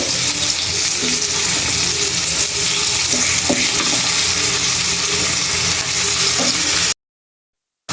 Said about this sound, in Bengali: তো এই দিক দিয়ে আমি কই মাছগুলো ভেজে নিচ্ছি।